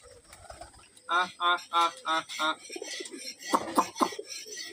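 Domestic pigeons at a village home coo close by in a series of short, rhythmic, throaty calls, with a person talking briefly toward the end.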